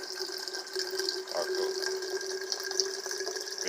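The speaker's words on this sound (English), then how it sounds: "You see how fast it fills the bottle." An alkaline water ionizer dispenses a steady stream into a bottle. The flow gives a continuous, even rushing hiss with a faint tonal hum under it, heard up close with no voices.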